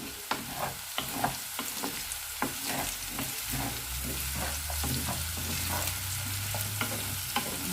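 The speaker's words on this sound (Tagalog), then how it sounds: "we will then put the onions, and we'll cook for about 2 minutes" Onions added to a pan with potatoes fry with a steady close sizzle, punctuated by sharp utensil scrapes and taps from stirring at irregular intervals, no talking.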